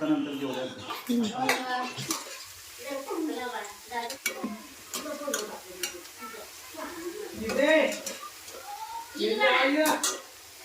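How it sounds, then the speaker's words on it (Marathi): Cabbage and onion bhaji frying in hot oil, with a steady low sizzle and occasional utensil clinks beneath almost continuous talking voices. "बघ बाई टाकली बाई तेलात"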